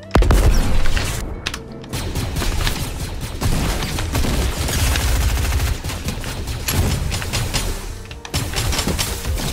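The First Order blast rifle fires in Fortnite in loud, rapid bursts of gunfire, with booming impacts and mechanical clatter filling the stretch almost continuously.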